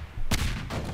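Gunfire on pirate ships in the game Garry's Mod comes as two booming, broadband blasts about a third of a second apart, loud and close, with a short rumbling tail.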